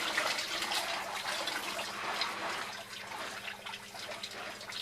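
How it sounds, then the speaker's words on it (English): Hot water sprays at partial flow from an EccoTemp EM-7.0 tankless heater in an off-grid shower, a steady hiss and patter that runs throughout with no talk. "Now I'm not running a full flow, I'm just getting enough to spray."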